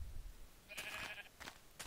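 A Minecraft sheep gives a single faint, drawn-out bleat, followed by a couple of soft clicks from the game.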